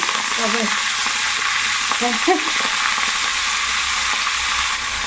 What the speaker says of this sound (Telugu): మునగాకు వేసి వేపుకోవాలి.